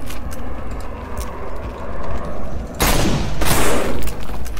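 Gunfire in a shooter video game sounds as dense, noisy crackling bursts, with a louder, harsher burst of shots near the end over a constant rumbling game background.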